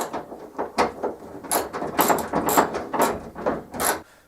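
Bolts on a Ford Focus tailgate being loosened and removed by hand, a run of short metallic clicks, ratcheting and scraping taps, fairly close and moderately quiet, with no talking.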